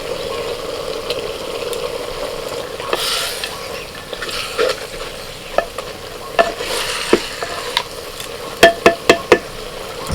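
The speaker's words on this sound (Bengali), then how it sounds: "একটু নাড়াচাড়া করে নিই" Chicken curry with ginger-garlic paste is stirred in a clay pot, with a low sizzle under scraping strokes that build into several sharp knocks and scrapes near the end.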